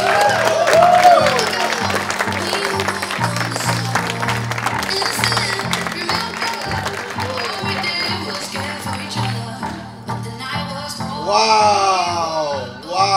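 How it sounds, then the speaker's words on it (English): Audience clapping to welcome a speaker at a network marketing masterclass, loud and busy under thumping background music with whoops, easing off before an excited voice speaks near the end. "let's all give a very warm applause for our next Emerald leader, Mr. Armand Ngadou."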